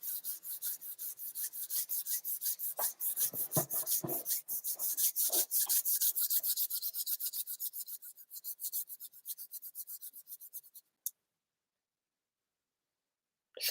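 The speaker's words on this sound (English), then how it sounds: "Let's just rub our hands." Palms rub briskly together in a steady rhythm of close, dry swishing strokes that gradually fade out and then stop, followed by near silence.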